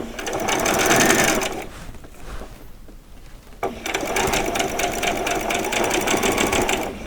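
A sewing machine stitches fabric for vet scrubs in loud, steady bursts of rapid whirring. It pauses for about two seconds, then resumes at a continuous pace with no talking.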